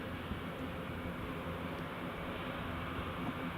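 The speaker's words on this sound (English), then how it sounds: "Ascot A400 taxiing stand 25 with the marshaller." An Airbus A400 military transport taxis at Newcastle International Airport toward a stand, its engines a steady, even roar that holds constant throughout, heard at some distance with no voices.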